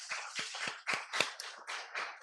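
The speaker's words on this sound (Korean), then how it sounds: "우리 먼저 하나님의 은혜에 감사하는 마음으로 한번 박수 올려드리겠습니다." A church congregation claps together during a Sunday morning worship service at Okpo Yeonggwang Church, a short burst of sharp, uneven hand claps close by with no talking.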